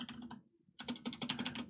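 Computer keyboard typing, a quick run of close key clicks, a short pause, then a faster burst of crisp taps in a quiet room.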